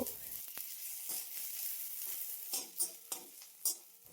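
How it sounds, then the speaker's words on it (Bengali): Chopped onion, ginger-garlic paste and green chilli frying in a pan, a steady close sizzle broken by several sharp scrapes and clinks of the spoon as it is stirred. "এখন আদা রসুনের কাঁচা গন্ধ যাওয়া পর্যন্ত অনবরত নাড়াচাড়া করে ভেজে নেব।"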